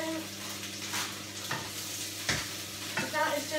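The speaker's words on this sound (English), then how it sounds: "this is sizzling" Ground turkey sizzles steadily in sesame oil in a pan over high heat while a utensil stirs and scrapes through it in a few brief bursts, close up.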